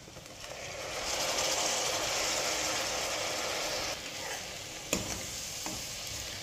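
Golden-brown onions sizzling in a pan as ginger garlic paste and mint paste go in, a steady frying hiss with stirring, then a sharp clank and quieter sizzle near the end.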